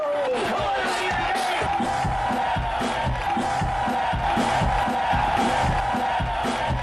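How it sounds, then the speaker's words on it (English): An entertainment audience cheers and applauds loudly for a performer, with whoops and shouts over continuous dense clapping, steady and close throughout. "Big round of applause, Mr. Dave Russo!"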